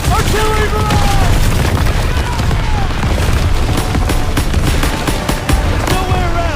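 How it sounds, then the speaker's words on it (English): Heavy, continuous rumbling blasts of an artillery barrage in the World War II shooter Call of Duty WWII, loud and dense, with scattered sharper cracks and shouted voices mixed in. "Artillery barrage!"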